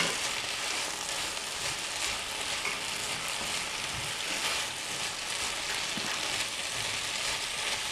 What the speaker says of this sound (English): we're gonna add our tofu. And just stir that around.